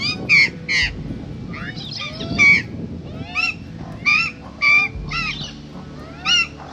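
Large birds honk repeatedly at a campsite on the Nullarbor, with about nine loud, close calls spaced irregularly over a steady low background rumble.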